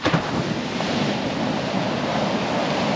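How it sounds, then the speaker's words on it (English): Ocean breakers crash continuously on a Pacific coast near kelp forests, a dense, steady roar of surf with wind noise, close and enveloping with no talk. "Oh, I love the sound of breakers."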